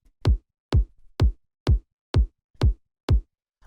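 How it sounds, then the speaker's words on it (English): Techno kick drum layer, seven evenly spaced punchy thumps with sharp clicky attacks and short decays, steady four-on-the-floor pace, played alone with silence between hits. "So the first layer we have is the kick."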